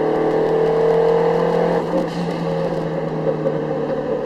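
A Subaru Legacy GTB pulling in second gear from about 2,500 rpm, with steady, loud engine drone and turbo whir that shifts as the second turbo comes on around midway, continuous with no talking.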